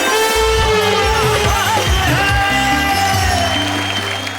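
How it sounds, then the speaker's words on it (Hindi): Audience clapping and cheering as a poet is welcomed onto the stage at an Urdu poetry recital, loud and continuous beneath blaring stage music with a prominent bass beat. "आइए जोरदार तालियों के साथ।"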